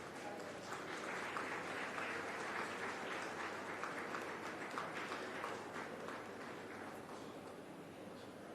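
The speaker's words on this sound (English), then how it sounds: "We should make sure that they are deafened by the applause." Dense, sustained applause from a large audience at the inauguration of Ahmedabad Design Week 2026, a steady wash of clapping at even loudness throughout with no voices standing out.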